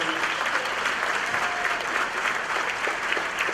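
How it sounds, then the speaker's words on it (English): A gala dinner crowd gives a sustained round of applause, dense and steady clapping filling the room at a moderate level with no break, heard alone without talk. "give a round of applause to Mrs. Linda Brown Robinson"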